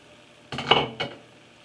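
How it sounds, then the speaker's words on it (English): A stick of real butter lands in a cooking pot with a quick metallic clatter, followed about half a second later by a second softer knock against the pot, both short and close against near silence. "I'm going to throw a stick of real butter into the pot."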